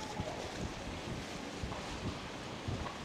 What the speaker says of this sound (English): it's extremely windy up here, so I don't know how the sound is gonna be.